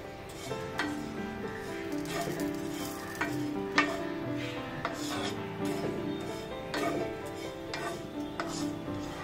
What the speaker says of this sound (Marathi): आता हा मसाला छान थोडासा भाजून घ्यायचा आहे।